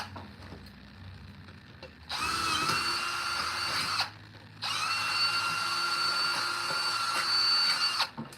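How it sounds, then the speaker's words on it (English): A power drill boring a hole in a plate during a repair job before snow, whining in two sustained close-up bursts separated by a short pause, with faint handling noise in between. "Let's just run the hole, make sure it's clean."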